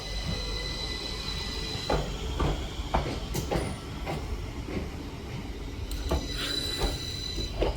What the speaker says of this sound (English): now arriving in is going to be the 1716 Northern service to Bradford Foster Square from Leeds